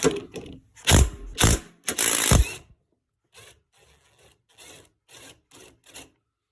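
Ratchet work on a 2022 Kawasaki KLR650 while fitting an adventure engine guard, loosening a motorcycle bolt: several loud bursts of rapid ratcheting clicks up close, followed by quieter, shorter clicking strokes.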